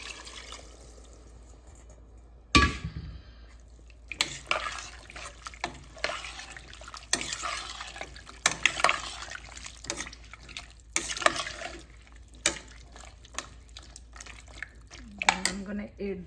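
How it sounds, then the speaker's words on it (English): Water pours into a cooking pot on a stovetop for a vegetable rice and lentil khichdi, a splashing, trickling stream in bursts, with clattering and crinkling handling noises between pours. "Add the water."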